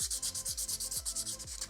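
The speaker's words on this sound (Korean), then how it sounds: "사포를 이용해서 다듬어줘요" Sandpaper smoothing the rough, splintery wood of a small plant pot in quick back-and-forth strokes, a rhythmic scratchy rasp repeating steadily, close and fairly quiet, with no voices.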